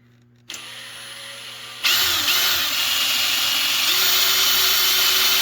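A power drill starts up, whines briefly, then bites into material with a loud, steady grinding drone that continues to the end, drilling while installing a generator interlock and inlet box.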